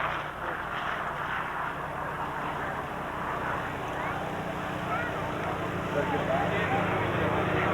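A vintage fighter aircraft, the first fighter to exceed 400 miles an hour, flies at the 1994 Aviation Heritage Air Show in Clark County, Indiana, its engine a steady, continuous drone that swells slightly toward the end.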